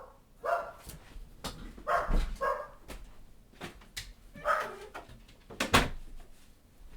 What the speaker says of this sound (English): I don't know why my dog barks at random things